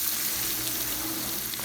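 Flour being stirred into fried onions in a pan for a hamburger steak gravy, producing a dense, continuous loud sizzle and frying hiss up close, with no voices.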